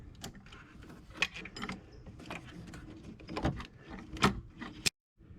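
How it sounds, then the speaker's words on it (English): A torque wrench ratchets on the alternator pulley of a 2003 MK4 Volkswagen Golf TDI. Scattered metallic clicks and tool clatter sound close at hand and end with one sharp click before silence. "So you get your torque wrench on there."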